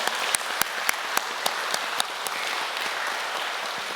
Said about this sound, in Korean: 다시 한번 신랑 신부에게 큰 축하의 박수를 올려주시기 바랍니다